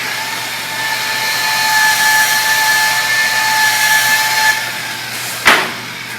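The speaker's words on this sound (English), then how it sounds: "Let me go ahead and clean the pad." A rotary polisher spins steadily to clean its polishing pad, giving a loud, continuous whine that holds a near-constant pitch. A short sharp burst of noise breaks in near the end.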